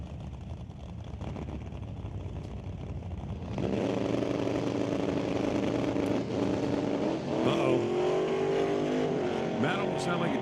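A drag racing car at an NHRA Northwest National Open Series meet, its engine swelling louder partway through and going off and on the throttle with rising, falling revs, while voices murmur underneath.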